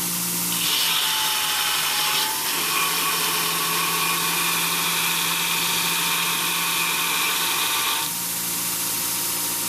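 A new grinder runs steadily at maximum speed, a fairly quiet, even mechanical whine with a continuous high tone that holds for several seconds, then shifts slightly lower near the end, with no voices.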